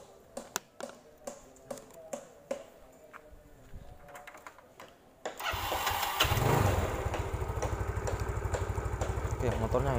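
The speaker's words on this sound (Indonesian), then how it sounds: "ini motornya tak hidupkan dulu" A motorcycle engine being started: several clicking cranks, then the engine catches and settles into a loud, steady idle that runs to the end.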